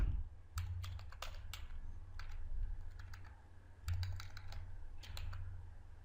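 Typing on a computer keyboard, with bursts of quick key clicks separated by short pauses over a steady low hum, close and fairly quiet.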